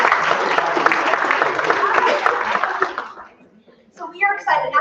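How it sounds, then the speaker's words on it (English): Audience at a Women's Health Day 2024 event applauds a speaker with steady, dense clapping for about three seconds, then it fades and a voice begins talking. "One more round of applause for Ray."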